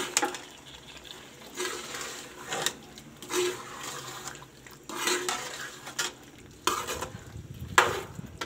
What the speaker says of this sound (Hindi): माशाल्लाह ऐसे भून भून के पका लेंगे, पानी नहीं अभी डालना।